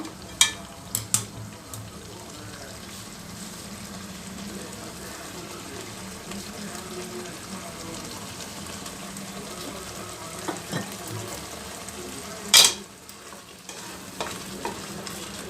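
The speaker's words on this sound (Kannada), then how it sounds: "ಮಸಾಲೆ ಎಲ್ಲನೂ ಹಸಿ ವಾಸನೆ ಹೋಗೋ ತನಕ ಫ್ರೈ ಮಾಡಬೇಕು" Masala and potatoes fry in oil in a pan for aloo kadai, giving a soft, continuous sizzle with occasional scraping and clinking from stirring.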